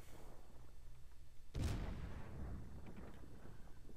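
Naval guns firing from a Budyonny cruiser in World of Warships: one loud, deep boom lands near the midpoint over a steady low engine rumble, then trails off into a long, rolling decay.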